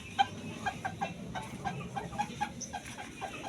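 A chicken clucks in a string of soft, short, repeated notes at a moderate distance over a faint outdoor background.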